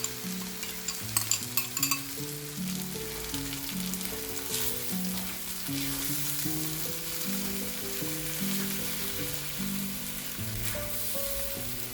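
Sauce with pepper and onion bubbles and sizzles in a pan, a continuous close crackle with occasional stirring and faint utensil clinks over twelve seconds, with no voices.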